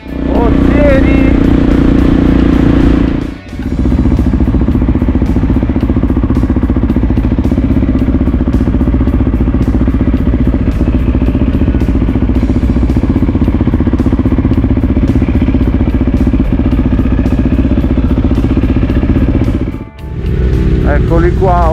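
A steady motorcycle engine drone, heard close and loud, during a May Day motorcycle rally through the Sardinian countryside near Mores. The engine runs continuously for over twenty seconds, with brief dips around three and twenty seconds and talk in the background.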